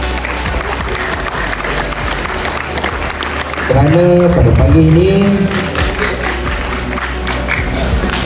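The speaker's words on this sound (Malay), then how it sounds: "Dan juga beri tepukan kepada anak didik sekalian" Applause for students at a school self-image programme, a steady crowd clapping under a speaker's voice that swells louder for a few seconds in the middle, with some vocal murmur, then settles back.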